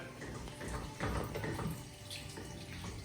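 Water splashes and gurgles as 200 ml is poured steadily into a pan of curry sauce, a close, continuous rushing sound.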